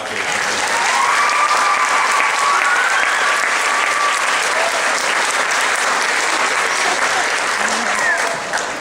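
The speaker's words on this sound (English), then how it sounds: "I want to give another round of applause to his daughter, Rebecca" At a spring school concert, an audience gives a full round of applause, a dense continuous roar of clapping that holds steady at close range, with a voice faintly over it.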